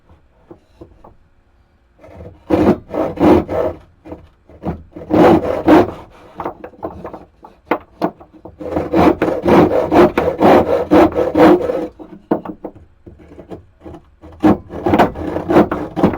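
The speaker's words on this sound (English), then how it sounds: "we're going to do the big saw for this one" A large hand saw cuts through wood for a stool in steady rhythmic strokes, close and clear, with pauses between bursts of sawing and no talk.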